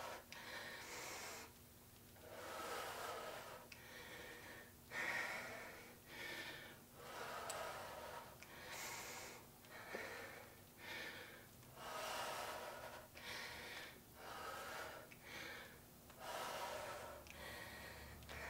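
Heavy rhythmic breathing during an at-home butt and thigh workout with a 24-pound weight, repeated close inhales and forceful exhales in a steady cycle, alone with no talk.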